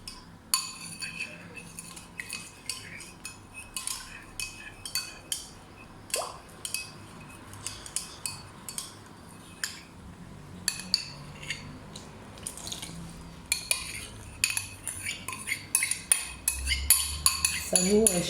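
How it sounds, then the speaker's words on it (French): A metal spoon clinks repeatedly against a bowl while sugar and paste are mixed for cornes de gazelle pastries. The sharp taps come at an irregular rhythm and are close and moderately loud, with a denser burst of clinks toward the end. "On reprend la même cuillère. La même cuillère, c'est le sucre, c'est la pâte."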